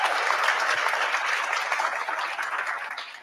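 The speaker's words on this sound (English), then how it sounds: "let's give a round of applause to our food service from Olympia School District" Loud, dense applause at a senior honors dinner, with many diners clapping for the school district food service staff; the clapping is even and sustained, fading slightly toward the end with no speech over it.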